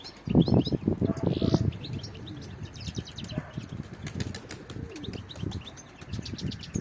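Wings flap in quick bursts as a pigeon takes flight, with scattered chirps and outdoor bird calls around it.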